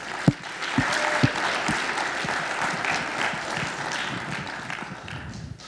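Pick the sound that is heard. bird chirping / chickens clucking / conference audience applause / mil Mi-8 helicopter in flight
conference audience applause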